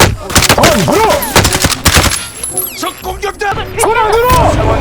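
Volleys of automatic gunfire rattle in Call of Duty: Warzone, sharp bursts coming in quick clusters, loud and near, while players talk over the shooting.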